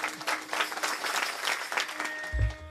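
Audience applause at a Marathi kirtan devotional gathering: a dense, steady wash of many hands clapping at once, with a low rumble near the end.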